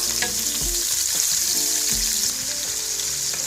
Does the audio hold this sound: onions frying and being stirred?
yes